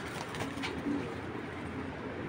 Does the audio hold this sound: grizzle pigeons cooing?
yes